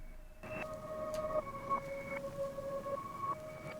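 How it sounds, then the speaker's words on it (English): A reversed high piano sample in FL Studio: sustained bright tones that swell in and cut off abruptly, overlapping in a slow, eerie line over faint hiss. "and then we have the high piano reversed"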